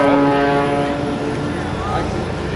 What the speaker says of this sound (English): This aircraft that you see Sean flying, it is known as the Oracle Challenger.